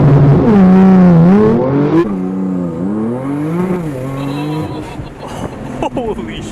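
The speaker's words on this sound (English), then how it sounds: "We're about to go for a rip in this blue Porsche." A blue 1300-horsepower all-wheel-drive Porsche 996 on a MoTeC setup accelerates hard on a backroad, its loud engine note climbing and falling through repeated revs, with voices likely mixed in.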